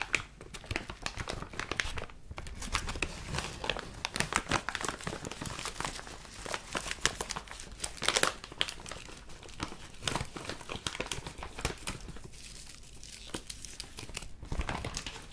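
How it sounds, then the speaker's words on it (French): Close, steady crinkling and crackling of a bendable plastic object resembling bubble wrap, handled in an ASMR setting, with dense irregular crunches and occasional sharper snaps, heard alone with no voices. "On dirait une sorte de papier bulle, mais ce n'est pas du papier bulle."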